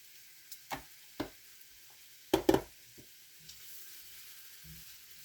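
Butter and flour for clam chowder cook in a pot with a faint, steady sizzling hiss, broken by a handful of soft taps and scrapes from stirring.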